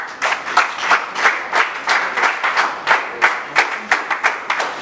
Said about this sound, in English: Ladies and gentlemen, please let's give a round of applause